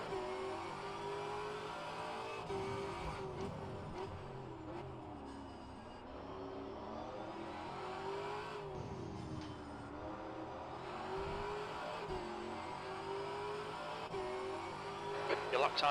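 A race car in the rFactor2 racing game at the Detroit Grand Prix closes in and passes with a rising then falling engine note, heard over a steady engine drone while a voice talks throughout.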